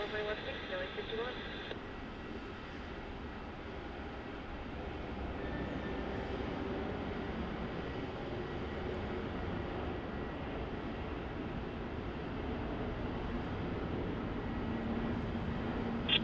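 Boeing 717-200 airliner taking off from runway 16 at Melbourne Airport, a steady distant jet roar holding through the whole stretch, with faint radio chatter early on.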